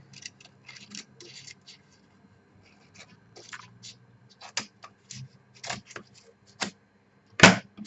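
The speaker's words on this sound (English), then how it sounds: "Let's cut these corners." Scissors trim the corners of a new journal in scattered, crisp snips with pauses between them, close and fairly quiet, ending on one louder, sharper cut.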